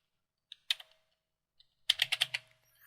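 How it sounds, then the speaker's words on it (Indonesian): Keys on a computer keyboard are typed softly and close by: a few isolated taps, then a quick run of keystrokes in a quiet room. "Saya ketik di sini nama."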